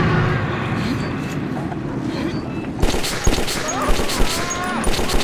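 Gunfire in the Metro 2033 shooter during a panicked ambush, a dull rumbling scene giving way midway to sharp, repeated shots in an irregular fusillade, moderately loud, with frantic shouting over it.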